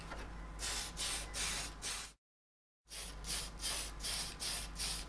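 Aerosol spray paint hisses onto a model car bodyshell in repeated short bursts for a first black coat, each blast loud and close, with a brief silent gap midway before more bursts follow.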